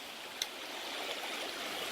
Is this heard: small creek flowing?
yes